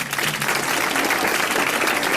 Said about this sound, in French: eh bien vous applaudissez Madame Raison Roy d'Orchamps